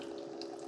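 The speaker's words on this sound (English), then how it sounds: "here I've got water coming out" Hot water runs steadily out of a coffee maker in a brief, faint trickle.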